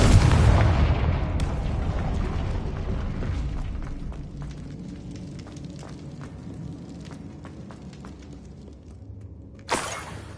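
Confringo blasting spell detonating in Hogwarts Legacy: a loud booming explosion opens the clip, its rumble slowly decaying under scattered crackles and debris, and a second sharp blast hits near the end.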